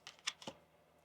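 A tarot card deck being shuffled, with a few quick, crisp papery snaps and taps close by and faint, then a quiet tail.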